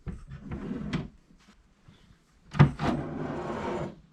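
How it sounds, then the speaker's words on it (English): A hidden push-to-open side drawer on a wooden nightstand clicks and slides, with two separate bumps and a short scraping glide, close and fairly quiet. "if you didn't see me open the side drawer, I don't think you would expect a drawer there at all"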